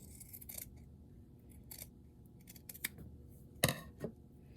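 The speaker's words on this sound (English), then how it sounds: "If you just cut a little strip right here." Scissors snipping a fabric strip for a sock snowman's scarf, a series of quiet, close, crisp cuts spaced irregularly, with one sharper snip near the end.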